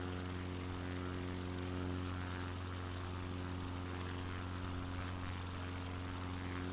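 Propeller airplane engine drones steadily in flight in a flight simulator game, a faint, even hum that holds unchanged throughout with no voices.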